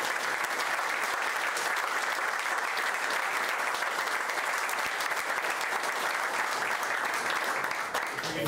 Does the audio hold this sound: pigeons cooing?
no